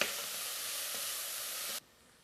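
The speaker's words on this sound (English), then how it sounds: "I just want to cook this onion down just enough so it starts getting clear." Onion sautéing in a pan for collard greens and black-eyed peas, a steady close sizzle that stops abruptly near the end, with no talking.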